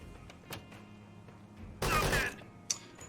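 Gunfire in the tactical game Door Kickers 2: a sharp burst of shots lasting about half a second, then a single louder crack, with scattered softer thumps around it.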